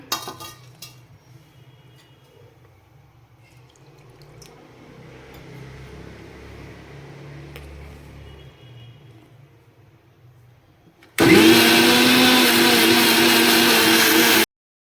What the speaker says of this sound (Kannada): ಒಂದು ಕಟ್ಟು ಪುದೀನ ಹಾಕೋತೀನಿ ಸ್ವಲ್ಪ ನೀರು ಹಾಕ್ಕೊಂಡು ಮತ್ತೆ ಮಿಕ್ಸಿ ಮಾಡ್ಕೊಳ್ಳೋಣ